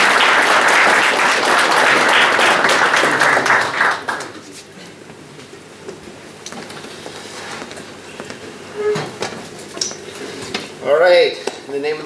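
An audience applauding to welcome a speaker at a church talk: loud dense clapping for about four seconds that fades out, followed by quieter room sounds, shuffling and a voice.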